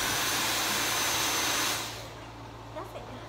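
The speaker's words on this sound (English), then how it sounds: "let's vacuum this rice" A vacuum cleaner sucks rice off a floor with a loud, steady whooshing roar for under two seconds, then the motor noise drops away to quieter room sound with a faint clatter.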